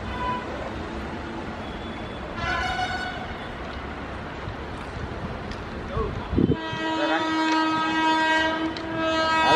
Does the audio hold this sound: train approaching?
yes